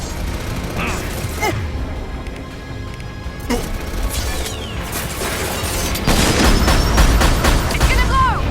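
An enemy turret fires in Mass Effect 2 amid a dense, continuous wash of combat noise, with scattered sharp shots and booms blending into rumbling background chaos.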